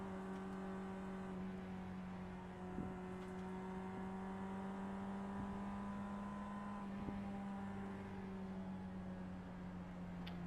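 Race cars circuit Road America behind the pace car, a steady distant engine drone with sustained tonal whine and faint passing accents, no speech over it.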